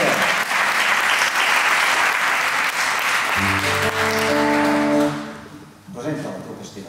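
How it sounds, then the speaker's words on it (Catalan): An audience claps loudly and densely for about five seconds, with a sustained tonal sound entering partway through, then the applause drops away and a voice speaks. "Un aplaudiment."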